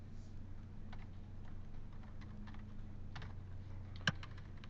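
Keys being typed on a computer keyboard in quiet, scattered light clicks with a steady low hum underneath and one sharper tap near the end.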